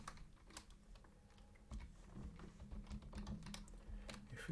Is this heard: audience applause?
no